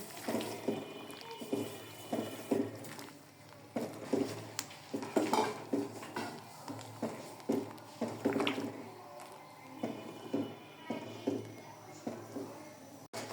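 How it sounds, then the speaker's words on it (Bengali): Semolina for halwa is stirred in a pot with a utensil, giving repeated close scraping knocks against the metal in an uneven rhythm, with a thick, moist squish underneath. "সুজি দেব আর নাড়ব না সুজিটা দলা হয়ে যাবে"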